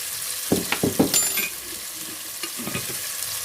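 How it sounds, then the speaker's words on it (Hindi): Maash dal with cumin, garam masala and turmeric is stirred and roasted in a pan, with a cluster of sharp scraping spoon strokes and a soft sizzle underneath, then a few quieter stirs later. "इसको अच्छी तरह से भूनना है हमने।"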